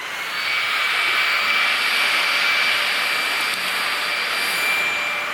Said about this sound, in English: We'll take a blow dryer and dry this.